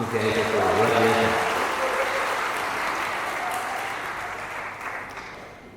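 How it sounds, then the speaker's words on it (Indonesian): An audience at a university convocation ceremony breaks into loud, sustained applause that gradually fades, while a voice talks over the start of the clapping. "Tepuk tangan semua untuk CCIP FTUI, luar biasa."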